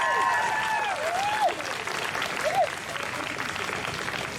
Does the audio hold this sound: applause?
yes